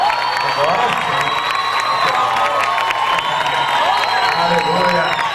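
A large crowd of young people cheering, whooping and clapping inside a church, a loud, sustained roar with shouted voices throughout.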